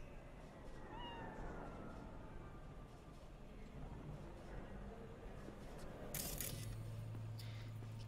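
A cat meows a few times in Cyberpunk 2077, faint and brief against a steady game ambience, with a voice talking over it.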